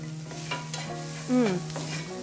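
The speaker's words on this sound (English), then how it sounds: "I'm gonna add my jalapeno pepper. I like a lot of pepper, but you can just use a little, just for a flash of color. And it's sauteing up beautifully." Jalapeno pepper and onion sautéing in a pan for shrimp and grits: a soft, steady sizzle with stirring, over a constant low tonal hum and a short louder swell midway.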